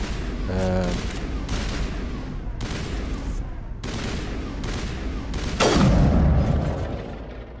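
Gunfire and booming blasts from the video game Mass Effect Legendary Edition, a dense, loud barrage of shots and impacts with a heavier burst near the end, voices mixed in underneath.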